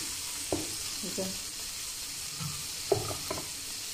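Onion and egg curry with tomatoes fries in a pan, giving a steady bright sizzle broken by a few clunks of stirring. A voice speaks briefly over it.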